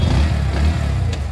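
A 2022 Bajaj Pulsar NS125 motorcycle engine runs steadily at idle, loud and close, with a low, even throbbing rumble.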